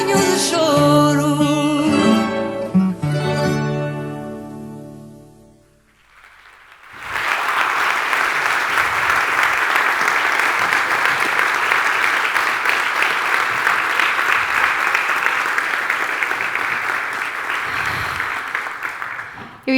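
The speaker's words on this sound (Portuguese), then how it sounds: "Eu ia pedir-vos uma salva de palmas, mas adiantaram-se e agradeço-vos por isso." Loud, sustained audience applause at a Portuguese youth national plan presentation, a dense wash of clapping filling about thirteen seconds after a sung musical passage fades out.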